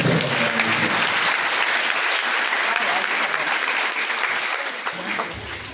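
Sustained applause from a large crowd at an official ceremony with ministers in Senegal, steady and loud throughout, tapering slightly near the end.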